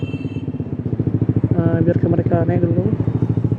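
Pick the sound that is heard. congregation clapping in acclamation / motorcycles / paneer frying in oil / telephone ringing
motorcycles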